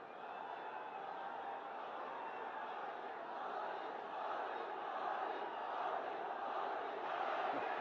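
A large political-rally crowd at a public meeting in Hyderabad shouts and roars continuously, a dense, steady wall of many voices that swells slightly toward the end.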